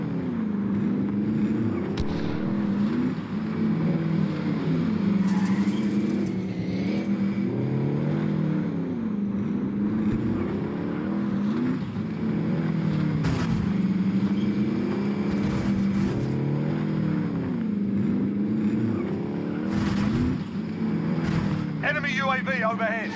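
Engine of a vehicle being driven in Call of Duty: Modern Warfare, a steady low droning hum with rising and falling revs throughout, with game sound effects and voices over it.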